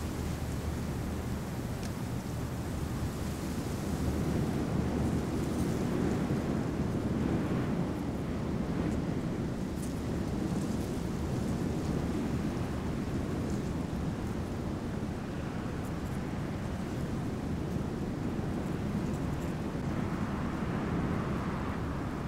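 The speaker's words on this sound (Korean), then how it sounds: "이곳은 백두산에서도 가장 바람이 세기로 유명한 곳입니다." Strong wind roars across the summit of Mount Paektu, already covered in early snow, as a dense, continuous rumble buffeting the microphone, steady and loud throughout with no voices.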